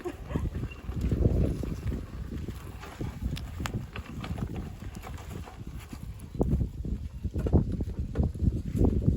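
Soft, irregular hoof clops and shuffling from a horse nearby during a potato harvest, with light wind noise in the background and no talking.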